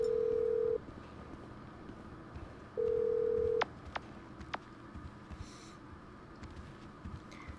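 Phone dialing in the GTA V video game: two long steady ring tones separated by a pause, then a few short sharp clicks and beeps as the call connects, all fairly quiet.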